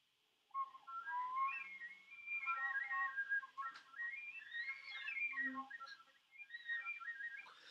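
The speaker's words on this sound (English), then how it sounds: "there's many different ways to do whistle tones" Thin, airy high flute whistle tones glide and waver in pitch, soft and breathy, with brief pauses between phrases.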